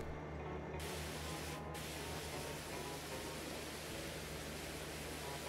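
Field sprayer spraying liquid fertilizer in Farming Simulator 22, a steady broadband hiss with a low engine drone underneath, continuous and even throughout with no talking.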